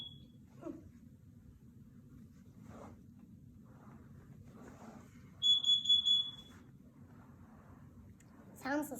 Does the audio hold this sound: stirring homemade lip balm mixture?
no